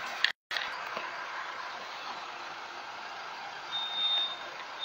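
A truck's reversing beeper sounds faintly on a smooth cobblestone street, a thin steady tone over low engine rumble and street ambience, with a brief dropout near the start.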